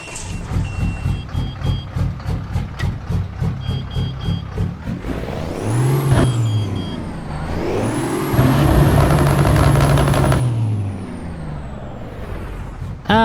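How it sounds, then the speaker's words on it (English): A Kenworth W900 truck's Cummins diesel engine in American Truck Simulator cranks over with rhythmic pulses, catches and idles, then revs with rising and falling whine; synthetic game engine sound, loud and close. "Let's get this W900 started up because it sounds quite glorious"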